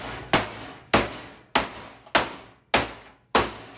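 A hammer crushes pretzels and potato chips in a kitchen, striking six sharp, loud blows at a steady pace with no talk.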